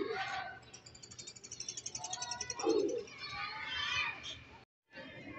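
Pigeons coo in a rhythmic series of soft pulsing calls close by, with other bird chirps and distant children's voices mixed in, briefly cutting out near the end.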